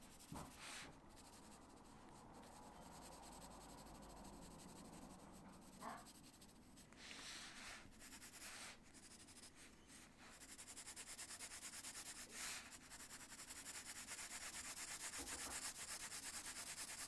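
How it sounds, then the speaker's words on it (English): Pencil shading darkly across paper during a landscape sketch, a steady close scratchy rubbing that continues throughout with brief pauses and strokes changing pace, no talking. "I'm just going to shade in as darkly as I possibly can."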